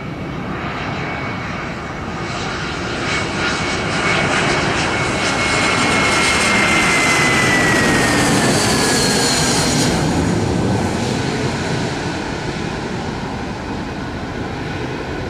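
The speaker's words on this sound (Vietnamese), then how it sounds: "Còn đây là một chiếc Airbus A321" An Airbus A321 landing at Tan Son Nhat airport in Saigon, a loud roaring jet engine that swells as the plane passes close overhead, with a thin descending whine, then eases into a steady rumble.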